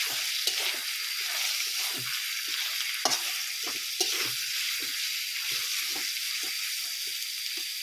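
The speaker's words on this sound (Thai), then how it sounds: "เทหมูลงไปเลยนะครับ หมูสามชั้นนะครับ ที่เราเตรียมมานะครับ ก็ผัดให้เข้ากันนะครับ" Pork belly stir-fried in a pan for a bamboo shoot and glass noodle dish, a steady close sizzle with scraping stirs and small clinks of the utensil throughout, no voices.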